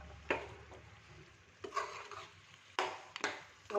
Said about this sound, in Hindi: अब हम इसमें दही ऐड कर देंगे और दही को अच्छे से मिक्स कर देंगे पूरे सालन में